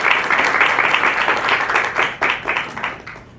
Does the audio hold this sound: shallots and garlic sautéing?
no